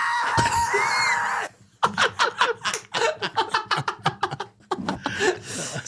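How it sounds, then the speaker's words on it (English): A raw, drawn-out rock vocal scream from a song, first as a sustained harsh cry, then breaking into a run of short, choppy bursts that sound like strained shouts or manic laughter, loud and close with no instruments behind it. "I'd like to play one particular scream."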